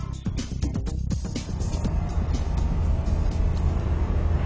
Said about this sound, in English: The transition's a really fun flying car to drive.